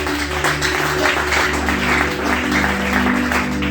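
Congregation in a church applauding for the Lord, a steady wash of clapping held at a constant level throughout, over a continuous low, droning musical backing.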